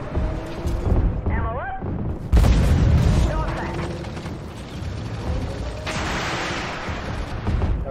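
Leopard 2AX tank main gun fires in a video game, a heavy boom over constant mechanical engine and turret noise, with creaking, ratcheting reload sounds around it.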